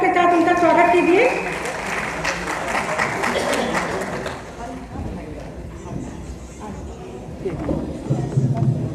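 A crowd at a political gathering applauds loudly to welcome a district president onto the stage, steady clapping and cheering that swells at the start, eases, then rises again, with voices mixed in.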